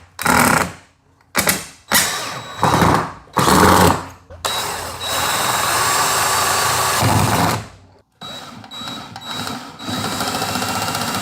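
Short bursts of a power drill driving screws to mount a power supply into a wall, several whirring runs separated by pauses, then a longer steady drilling stretch.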